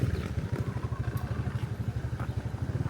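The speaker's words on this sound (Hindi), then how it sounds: "ये बाइक से भाई लोग बाइक से आ जा रहे हैं।" Motorbikes passing near a ferry terminal on the way to Labuan, Malaysia, a steady pulsing engine drone that stays moderately close throughout, with no talking.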